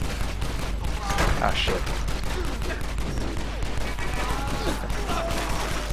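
Dense, continuous gunfire from the Stranglehold video game, with bursts and rapid shots overlapping throughout under a player's occasional spoken reactions.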